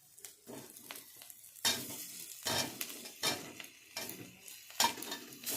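Bursts of sizzling as potatoes are stirred into frying spices in a hot pan, with a spoon scraping and clinking against the metal in an uneven rhythm.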